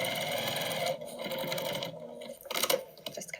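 Sewing machine top stitching a fabric patchwork basket, a steady close whirring run that stops briefly and then finishes with short back-stitch bursts, no talking.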